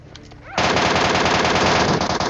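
A rapid, loud burst of MK14 rifle fire in a battle royale video game erupts after a brief quieter moment, continuing as dense, sustained shots to the end.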